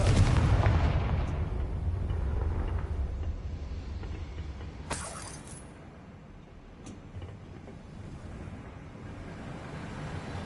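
A loud, booming blast from the Confringo spell in Hogwarts Legacy opens with a heavy low rumble that slowly decays, followed by a couple of sharp, brief cracks later on.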